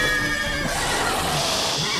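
A horse in The Witcher 3: Wild Hunt whinnies in fright amid busy game sounds, a loud neigh with tonal harmonics over a steady wash of background noise, with the scene carrying on after the call fades.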